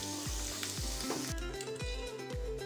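Guava rice ingredients sauté in a hot pan, a soft continuous sizzle broken by a few rhythmic stirring scrapes, close and quiet with no talk.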